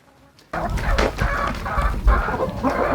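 Homestead hens peck at food scraps on a farm, clucking loudly and close by in a busy, overlapping chorus that starts abruptly after a brief quiet moment.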